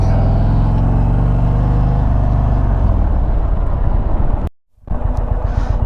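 An Indian Springfield Darkhorse motorcycle rides along with a loud, steady engine drone and wind rush that eases off, drops out briefly near the end, then resumes.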